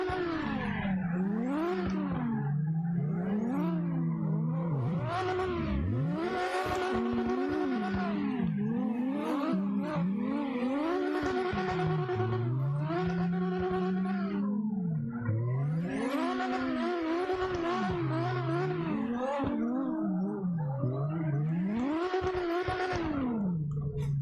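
Drifting car engine in CarX Drift Online, loud and close, revving up and down in repeated swooping climbs and drops as gears shift, the whining pitch wavering constantly with no pauses.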